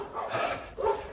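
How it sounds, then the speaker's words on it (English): Dogs bark in a town on Madeira, two short barks a moment apart, moderately close, with no talk over them. "I'm sure you can hear the dogs barking."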